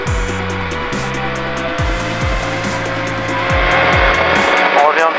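A motorcycle engine on the Magny-Cours race track revs up and down through repeated gear shifts, loud and close. Wind rushes over it and a voice talks quietly underneath.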